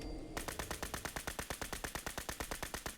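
M3 Grease Gun submachine gun firing in the video game Fallout 4, one long sustained burst of rapid, evenly spaced shots after a brief quiet moment, loud and close with a slight echo.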